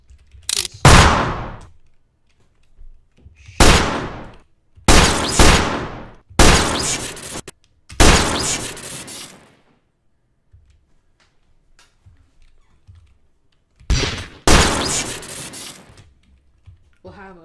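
Gunfire sound effects for a Source Filmmaker animation come in several loud, sharp bursts spaced across the stretch, with quiet gaps between and a final pair of blasts near the end.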